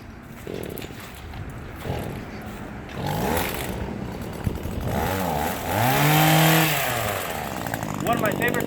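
A voice mimics an Echo Timberwolf chainsaw, making buzzing revs that rise and fall in pitch, building to a louder, wavering whine near the end, with brief pauses between bursts.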